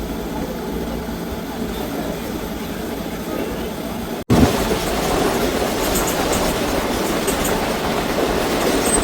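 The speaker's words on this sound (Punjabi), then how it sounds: "ਨਿਕਲ ਚੁੱਕੇ ਜੀ ਆਪਾਂ ਪਟਿਆਲਾ ਕੈਂਟ ਰੇਲਵੇ ਸਟੇਸ਼ਨ ਤੋਂ" The 14735 Ambala Cantt Express pulls out of Patiala Cantt railway station, recorded on board as a steady, loud rumble with wheel clatter. An abrupt cut midway leaves it slightly louder afterward.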